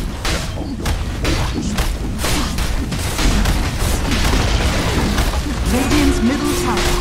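Tower being destroyed during a Dota 2 Ability Draft match, heavy booms and thuds piling up in a loud chaotic battle, with a game voice talking over it.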